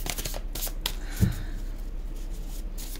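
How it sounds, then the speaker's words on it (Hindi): Tarot cards being shuffled by hand, a soft riffling and flicking of card stock close by with one fuller slap in the middle, quiet and steady with no talking. "चलिए मैं शफल करके ही कार्ड निकालूंगी।"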